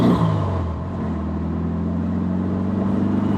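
A Porsche 356 Speedster drives along with a steady, smooth engine drone and road noise, holding an even, moderately loud note throughout with no speech.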